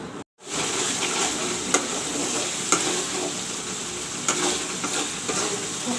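Masala for a rohu fish curry frying in hot oil, a continuous dense sizzle heard close and steady, with a few brief stirring clicks from a spoon against the pan.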